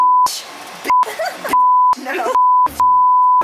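Loud, steady censor beep tones cut repeatedly into a cooking-show spaghetti session, several long bleeps alternating with short bursts of a person's speech and shouting between them.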